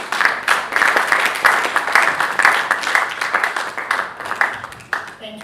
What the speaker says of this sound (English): Please let's put a round of applause for her.